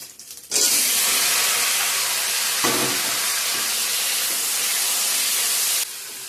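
Vegetables drop into a hot pan with ginger and white cumin and burst into a loud, broad sizzling hiss that holds steady for about five seconds before dropping off sharply.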